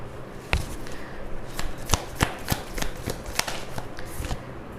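Tarot cards being handled and drawn from a deck, giving a close, crisp run of papery snaps and flicks in an irregular rhythm over a soft background.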